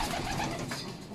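Racing pigeons coo softly inside a pigeon loft, a short, faint burst of low murmuring calls.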